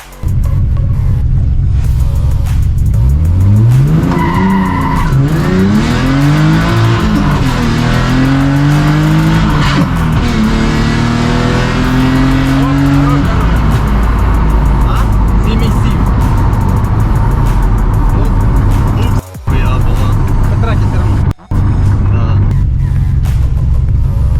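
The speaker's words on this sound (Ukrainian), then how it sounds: "пора подивитися, скільки ж ця дріфтуха їде" A BMW drift car driven hard blasts a loud, close engine roar that climbs through repeated rising rev sweeps and gear changes, then holds a sustained high-load drone for the rest of the run, with a couple of abrupt brief cutouts near the end.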